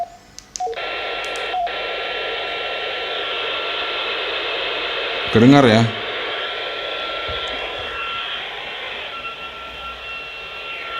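Steady radio hiss from a Firstcom FC-220R receiver with squelch opened, a faint tone running underneath, a brief wavering warble in the middle, and a short spoken remark near the start.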